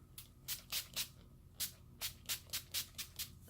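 Matte setting spray misted onto a face during a makeup routine, about ten short close hissing spritzes in uneven bursts, alone without talk.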